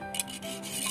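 A hand file rasps across the teeth of a wood saw being sharpened, a close continuous gritty scraping made of a few push strokes, with no talk.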